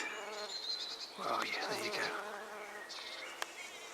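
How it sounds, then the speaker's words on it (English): Bees buzzing steadily around flowering comfrey plants in a wildlife garden, a close, continuous hum with individual bees drifting nearer and away, while a person speaks briefly over it. "And all the time full of bees."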